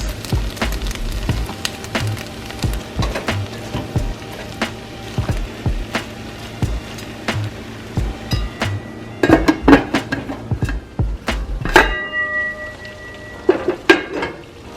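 Spaghetti and corned beef cook with butter in a pan, giving a steady low sizzle broken by frequent sharp clinks and scrapes of a utensil against the pan, with a flurry of clatter near the end.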